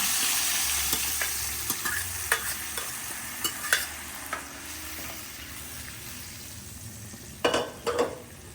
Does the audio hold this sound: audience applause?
no